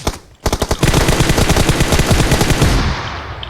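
Automatic weapon fire in PUBG Mobile: a few single shots, then a long, rapid, loud burst of evenly spaced rounds rattling for about two seconds before cutting off into a ringing tail.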